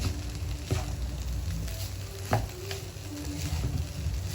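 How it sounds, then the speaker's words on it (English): Bean sprouts and long beans are mixed for an urap salad while a steady sizzling hiss carries underneath, with a few soft stirring scrapes, close and continuous, and no speech. "So make sure you mix this well."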